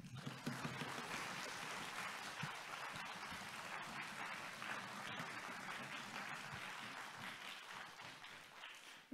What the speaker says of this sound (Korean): 우리 두 손 들고 크게 환호와 함께 박수와 함께 발을 구르면서 우리 환영하도록 하겠습니다.